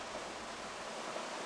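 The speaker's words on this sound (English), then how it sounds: "Under the waterfall," A waterfall in Colombia gives a steady, full roar of falling water, constant and moderately distant, with no voices.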